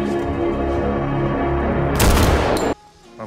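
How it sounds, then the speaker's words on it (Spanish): A gunshot in a 1920s Birmingham gangster drama blasts a football held by a thief, a sudden loud crack and burst over a dense, continuous music and ambience bed, then the sound drops away sharply. "pero se lo desinflan de un balazo"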